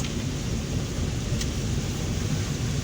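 Steady rain falling on a rainy day in Mirpur, a dense continuous hiss with a deep rumbling undertone of thunder throughout, fairly loud and enveloping.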